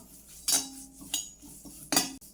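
Curry leaves stirred in a hot pan with the stove off, a spatula clinking against the metal three times at irregular intervals, close and fairly clear.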